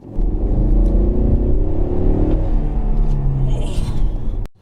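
Ford Mustang engine droning and revving steadily while driving, a low rumbling hum heard from inside the car, continuous and moderately loud, ending with a sharp click.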